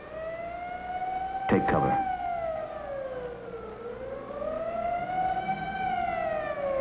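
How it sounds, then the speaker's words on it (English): A civil defense air raid siren from a 1955 film wails loudly and continuously, its tone sliding down, then rising and falling again, with a man's brief spoken warning near the start. "as directed by the mayor, the siren sounds once more"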